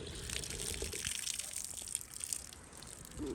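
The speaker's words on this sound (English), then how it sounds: "Okay, now you got a full bucket of water." Water runs and gushes into an animal's bucket in cold weather, a steady close splashing fill that eases near the end.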